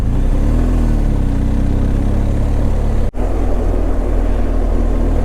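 A BMW GS Adventure motorcycle runs along a road with a steady, droning engine and broad wind and road roar. The sound is loud and continuous, with a momentary dropout partway through and no talk.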